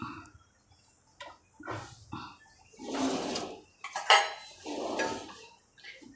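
Metal bowl and utensil clinks as a bowl of oiled samosa mathadi dough is covered to rest, several separate knocks and a louder clatter near the middle, close and moderately loud.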